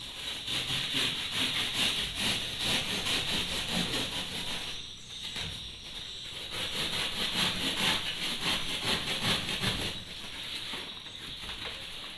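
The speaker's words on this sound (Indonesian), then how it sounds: "Sangat gampang gergaji gabus ya teman-teman." A hand saw rasps steadily back and forth through styrofoam in a fast, continuous rhythm, pausing briefly partway, then resuming.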